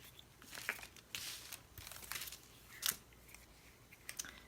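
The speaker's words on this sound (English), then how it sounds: "So what I'll do, I think, is just trim it off a little bit." Scissors snipping through cardboard while trimming a craft page, a series of short crisp cuts and rustles at close range, fairly quiet, with no talking.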